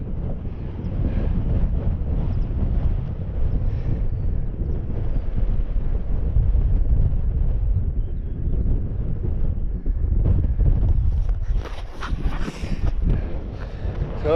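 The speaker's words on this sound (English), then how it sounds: "So it's a wee bit windy up here" Steady wind buffets the microphone with a constant low rumble and rush, gusting throughout with no voices.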